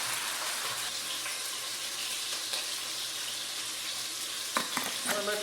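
Seared scallops and a wine sauce sizzling in a hot pan, a loud steady frying hiss throughout with a few clinks of a utensil near the end, no talking.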